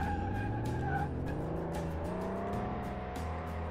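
A modified minivan engine in Car Mechanic Simulator 2018 revs hard and climbs through closely spaced gears, its tone rising and dropping at each shift, with tire squeal and quick clicking shift sounds, steady and close.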